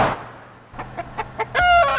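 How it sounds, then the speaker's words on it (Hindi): A rooster clucking among a flock of hens, giving several short separate clucks followed by a louder drawn-out call near the end, with no voices. "अरे मुर्गे बॉस, तू अकेला इन सब के बीच इतनी सारी मुर्गियों को कैसे संभालता है?"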